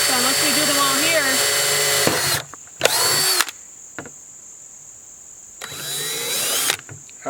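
Power drill running in several short bursts, loud whirring spins separated by pauses filled with a steady background hum, with people talking before the first burst.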